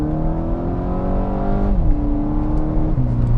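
Stock stage 0 VW GTI accelerating hard: the engine revs climb steadily through a gear, drop at a shift, then climb again, loud and close with no talking.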